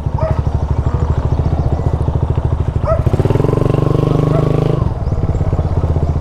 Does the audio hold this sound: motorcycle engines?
yes